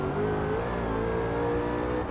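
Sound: Ford Shelby GT500 supercharged engine revving, Forza Horizon 4 video game

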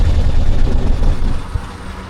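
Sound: Piaggio Ape Classic auto rickshaw engine pulling

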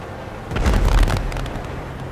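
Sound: explosions in a video game

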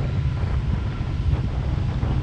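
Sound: wind blowing outdoors at an excavation site

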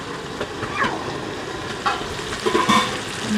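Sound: carrots frying in a pan for fried rice

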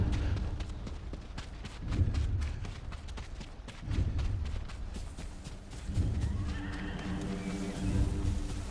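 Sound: horse neighing in video game Ghost of Tsushima

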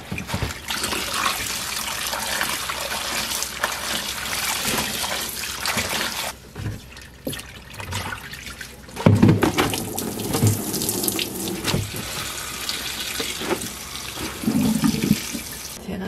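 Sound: rinsing perilla shoots in water at the sink

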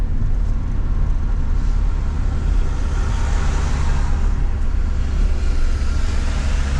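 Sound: car driving on the road with a shaking steering wheel

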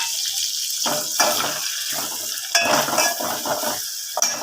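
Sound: stirring ginger-garlic paste, red chili and turmeric in pan

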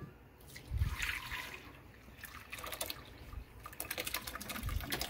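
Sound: straining water from cooked acorn squash

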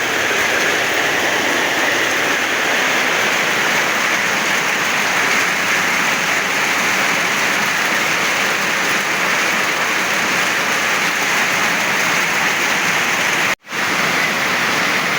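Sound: heavy rain pouring

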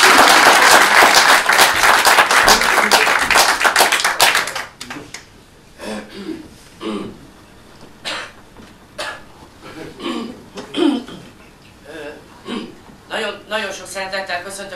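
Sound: audience applause

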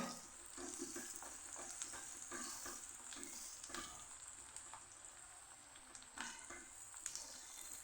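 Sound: onion with garlic-ginger paste frying, being stirred

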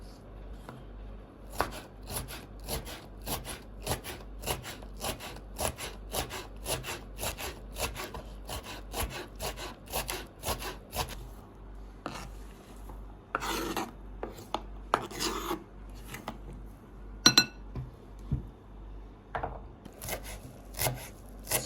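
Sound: knife finely chopping vegetables for Antep ezme salad

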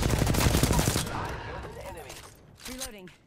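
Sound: R-301 rifle gunfire in the video game Apex Legends

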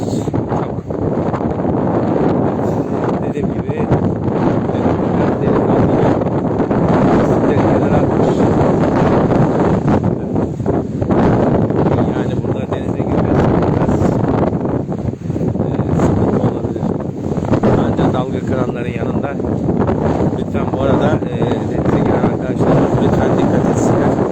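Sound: wind and sea waves

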